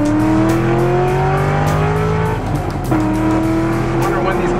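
A race car engine roars loudly and steadily, revving up in rising and falling sweeps with a deep, continuous drone and a brief dip near the middle, all close to the microphone.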